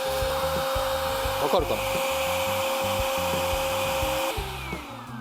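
An Iris Ohyama RNS-P10W rinser cleaner whirs steadily after being switched on, a continuous motor drone with a faint whine, close by under brief speech, then winding down near the end.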